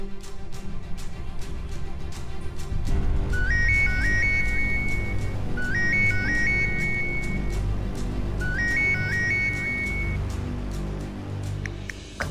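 A mobile phone ringtone plays its short melodic phrase three times in a row and goes unanswered, over a low rumbling background, with no voices.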